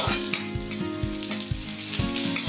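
Long beans for a Kerala payaru thoran sizzle steadily in a pan while a spatula stirs them in regular scraping strokes, close and fairly loud, with no voices.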